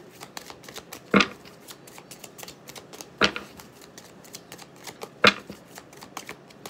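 Tarot cards are shuffled in a quiet room with a soft, continuous flutter of rapid card clicks, broken by three louder slaps spaced about two seconds apart.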